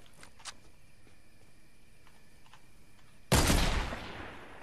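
Fortnite gunfire in a duo match: faint scattered shots early, then one loud close blast or burst that decays over about a second.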